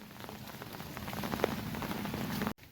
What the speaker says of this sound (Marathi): पाऊस अजून देखील आहे चालू आहे